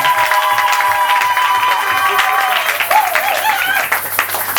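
A church congregation claps and cheers together at an ordination service, sustained applause with a crowd murmur and a voice rising above it.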